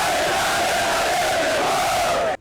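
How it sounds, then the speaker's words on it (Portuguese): Flamengo fans outside the training ground cheer and chant together in a loud, continuous roar of many voices, with a sustained sung tone running through it before it cuts off abruptly at the end. "Fogos, bandeirões e músicas de apoio embalaram a torcida."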